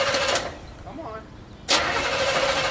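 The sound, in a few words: derby car engine starting and running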